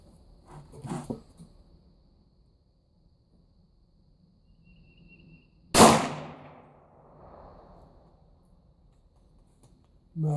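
Glock 43 pistol fires: one sharp, loud crack rings out alone and decays with echo, preceded by a fainter clatter and followed by another sudden burst at the very end.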